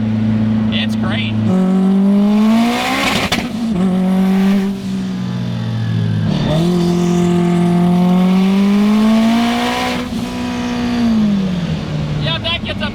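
A 1000HP Subaru STI accelerates hard, its engine note climbing steadily through the gears in long rising sweeps, loud and close, with brief dips between shifts.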